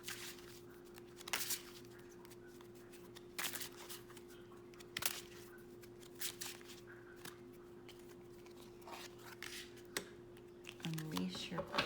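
Oracle cards are shuffled in repeated soft, crisp riffles at irregular intervals over a low steady hum, with quiet talking woven throughout.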